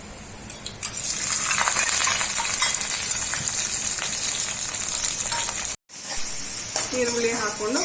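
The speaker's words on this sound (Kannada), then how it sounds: "ಈಗ ಪಲ್ಯಗೆ ಒಗ್ಗರಣೆ ಕೊಡ್ತಾ ಇದ್ದೀನಿ." Mustard seeds and cumin sizzling in hot oil for tempering a bitter gourd curry, a loud steady crackling sizzle with popping seeds that briefly cuts out, as someone talks over it.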